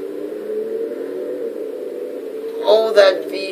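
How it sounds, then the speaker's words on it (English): A V8 car engine in the Final Fantasy 15 video game holds a steady low drone, then rises in a short, louder rev near the end. "Oh, that V8. Oh, guys, the sound of this thing."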